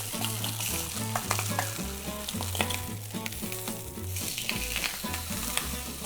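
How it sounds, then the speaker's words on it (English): A ribeye steak flipped and searing in a hot pan: a loud, close, continuous sizzle with bursts of crackle and spatter, plus clinks and scrapes of handling, with no talking. "I think it's time to flip our steak."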